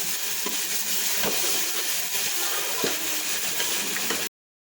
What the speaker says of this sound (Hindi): ये देखिए ये घी छोड़ता जा रहा है, इसका मतलब है कि ये पक के तैयार हो जा रहा है।